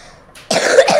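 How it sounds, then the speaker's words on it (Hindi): A single short, harsh cough bursts out close up after a brief quiet lead-in, one of the sounds in the Granny Chapter 2 horror game. "खांसी"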